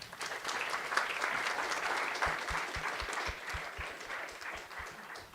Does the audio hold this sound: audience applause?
yes